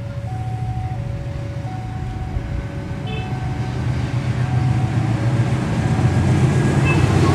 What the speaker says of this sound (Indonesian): KLB rel diberangkatkan dari stasiun Cicalengka